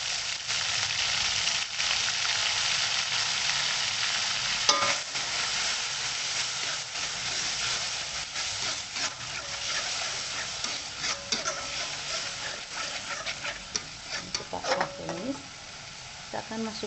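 Steady sizzling of spice paste frying in hot oil, with occasional stirring scrapes and clinks, close up and continuous.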